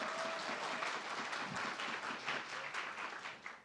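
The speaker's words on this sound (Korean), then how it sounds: "다시 한번 좋은 말씀해주신 세 분의 심사위원분들께 큰 박수 부탁드리겠습니다." Audience at a municipal awards competition in Namyangju applauding the judges, a dense, sustained clapping that fades slightly toward the end.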